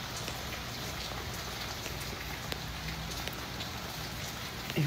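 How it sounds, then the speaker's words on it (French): Steady rain falls in Miami, a dense, even hiss of drops with occasional sharper patters on surfaces, heard alone and continuously at moderate level. "Il pleut."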